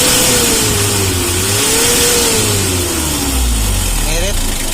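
A car engine, likely diesel, revs after fuel injection pump timing adjustment, rising and falling in a couple of throttle blips over a steady running note, close and loud, with someone talking over it.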